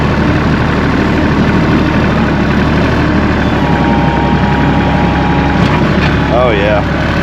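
Tractor engine idling outdoors in a frozen winter farmyard, a loud, steady low rumble with no breaks, with brief voices faintly audible near the end.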